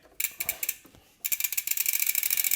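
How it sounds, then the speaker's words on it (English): A ratchet clicks as it loosens the center crank bolt on a SRAM chainset of a mountain bike with a pressfit bottom bracket, first in short separate bursts, then in a steady, quick run of close, crisp clicks. "So we're undoing the bolt in the center, not the larger one on the outside"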